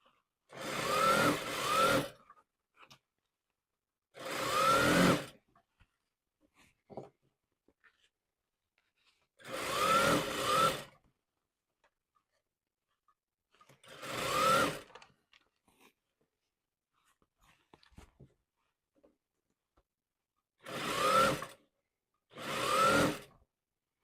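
Sewing machine stitching a stretch skirt seam with backstitching, heard as six short bursts of about two seconds each. The bursts are separated by quiet pauses, the last two coming close together.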